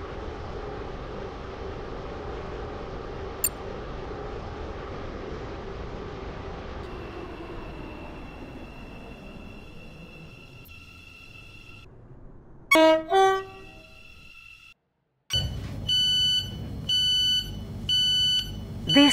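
A train in the video game SCR rolls into Morganstown station: a low rumbling run that fades and slows, then a brief silence, followed by stacked electronic tones and beeping chimes at the platform.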